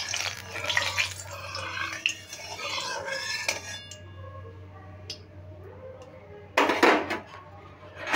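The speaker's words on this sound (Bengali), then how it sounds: "তেলটাকে একটু খুন্তি করে ছড়িয়ে নেব।" A metal spatula spreads oil across a hot pan on medium heat before jackfruit-seed dhoka go in, giving scraping, clinking strokes early on and a brief louder scrape near the end.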